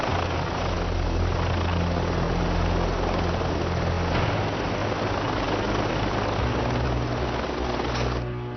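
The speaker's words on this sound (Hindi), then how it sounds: "अभी हेलीकॉप्टर से उतरा है।" Helicopter droning steadily and loudly nearby for the whole stretch, a dense continuous rotor and engine roar with no voices.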